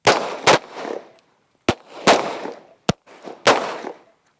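Handgun shots during tactical training, four sharp loud reports spaced about a second apart, each with a short echoing tail, no talk in between.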